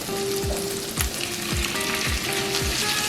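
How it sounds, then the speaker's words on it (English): Shrimp sizzle in a pan of paella, steady loud frying with a rhythmic series of stirring scrapes roughly every half second, close and without talk. "And lastly, I think we will put in the shrimp."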